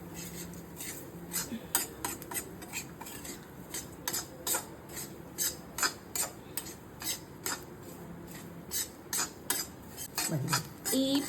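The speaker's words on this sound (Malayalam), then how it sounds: "ഇത്ര ഇട്ടിട്ട് ഇനി ഒന്നുകൂടെ മൊരിയണം" A spoon scrapes and stirs coriander powder masala as it roasts in a pan for Kerala-style shallot curry, giving repeated rhythmic clinks and scrapes, fairly close, with a faint sizzle underneath.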